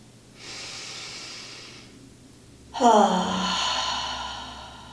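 Deep yoga breathing during an Ashtanga full primary series practice: a soft, drawn-out inhale, then a louder, sighing exhale, both close and clear.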